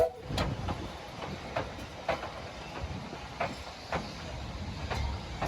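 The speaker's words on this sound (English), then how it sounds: "The locomotives are operating on a temporary 2-foot gauge railway" Miniature locomotives roll past on a temporary 2-foot narrow-gauge railway, with rhythmic clicks of wheels on track and a steady rumble, heard from nearby with no talking.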